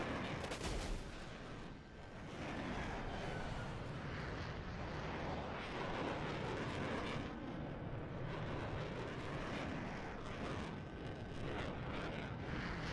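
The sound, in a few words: F-16A jet engine, plane in video game War Thunder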